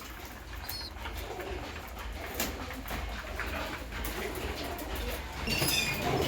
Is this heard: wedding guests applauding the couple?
no